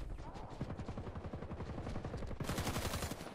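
Rapid automatic gunfire from a video game team deathmatch, dense bursts of shots rattling continuously and loudly, intensifying near the end, with a faint voice underneath.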